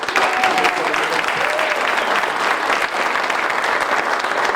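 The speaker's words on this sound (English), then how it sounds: "Everybody, please do a big old welcome, a big old applause for Cynthia." Loud, sustained applause from a large crowd at a sports hall of honor ceremony, dense clapping filling the whole stretch with a few cheers mixed in.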